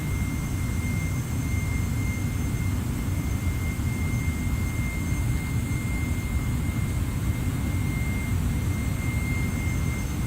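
Jet engines of a Lufthansa Boeing 747-400 in the X-Plane 11 flight simulator, accelerating with a loud, steady roar and whine that holds throughout without pause.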